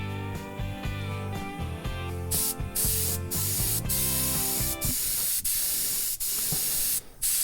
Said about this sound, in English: This is a cheap touch-up gun from Harbour Freight.